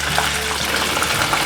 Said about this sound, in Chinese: 再翻过来继续炸